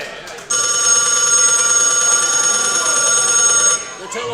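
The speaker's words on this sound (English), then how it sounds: "The telephone." An old-style telephone bell rings continuously for about three seconds at a roadhouse performance, loud and bright with a sharp start and stop, and faint crowd or room noise around it.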